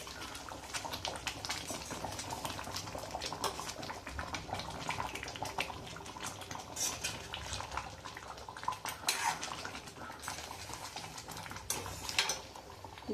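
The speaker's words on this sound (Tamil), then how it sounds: "இப்போ பாருங்க நல்லா கொதி வந்துடுது." Ennai kathirikkai kuzhambu, a Tamil brinjal curry, bubbles at a steady boil in a pan, a soft continuous crackle and burble with faint clinks, heard up close at low volume.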